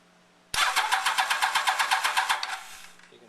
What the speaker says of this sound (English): Well, just a bunch of spitting and sputtering